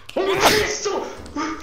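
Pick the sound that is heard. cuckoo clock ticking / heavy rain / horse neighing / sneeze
sneeze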